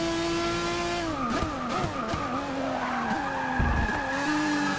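Race car in Forza Motorsport 6 braking hard into a corner, a steady engine drone broken by loud sliding tire squeals and skids that sweep up and down over several seconds, with no talk.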